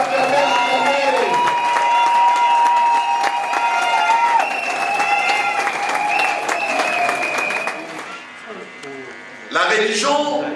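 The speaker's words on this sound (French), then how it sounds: "On va acclamer pour nos frères et sœurs. Acclamez, acclamez, acclamez." A congregation applauds and cheers at a church's tenth anniversary celebration, a loud sustained crowd roar with a strong tonal sound running through it. It dips near the end before swelling again, with voices mixed in.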